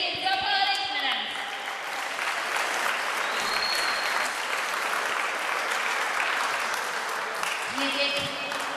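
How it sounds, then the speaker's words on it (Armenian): A crowd applauds athletes and coaches at a youth and adult sports championship ceremony, with sustained clapping through the middle. Tones and voices are audible at the start and end. "եկեք ծափահարենք նրանց"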